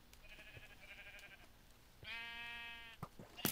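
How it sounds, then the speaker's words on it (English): Sheep bleat in a fantasy adventure video game, first a thin wavering cry, then a louder, longer bleat, with faint game clicks and thumps around them and no talk. "that's a sheep"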